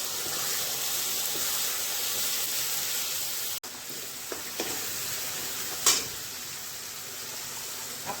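Onion-tomato paste with fried paneer sizzles steadily in a hot pan, a continuous loud frying hiss with a few faint stirring scrapes partway through.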